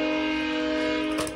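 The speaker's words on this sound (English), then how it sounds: "With that train popping off like that" A train passes nearby in an urban neighborhood and sounds a loud, steady, sustained horn blast, then the horn ends and the noise fades slightly.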